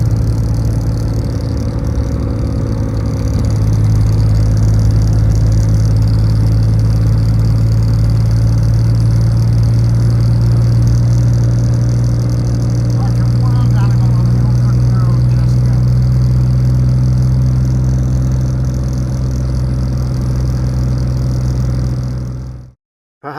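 A Reliant Robin fitted with a Kubota D722 diesel engine runs steadily throughout, a loud, close, continuous mid-pitched drone with a slight clatter that holds until cutting off abruptly near the end.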